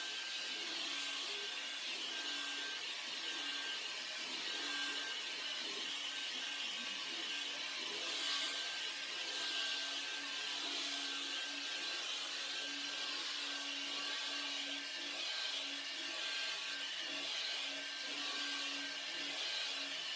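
A carpet cleaning machine works over a pet-stained carpet with a steady, loud whirring roar and a faint high whine, running without pause for the whole stretch.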